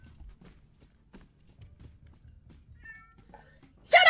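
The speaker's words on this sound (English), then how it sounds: "Shut up, cat!" A cat meows loudly and abruptly at the very end in Styx: Shards of Darkness, following quiet soft footsteps and faint background sounds.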